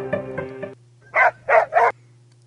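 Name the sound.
dog barking sound played by the Shake N' Say app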